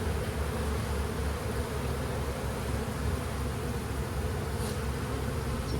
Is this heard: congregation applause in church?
no